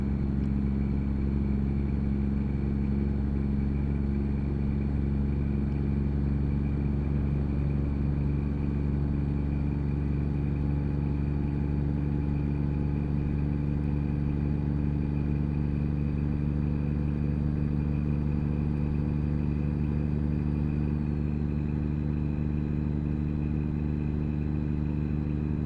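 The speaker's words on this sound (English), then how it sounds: "listen to that engine brake" Heavy truck engine braking in the American Truck Simulator video game, a loud, steady low rumble that stays constant for the whole stretch with no talk over it.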